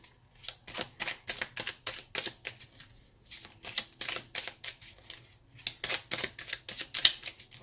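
Tarot cards being shuffled by hand, a quick run of crisp papery riffles and slaps in uneven bursts, close and fairly quiet with no voice.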